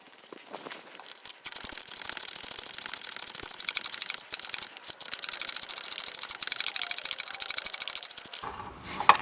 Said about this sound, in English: I'm going to go ahead and remove the rear motor mount bolt, the last one back there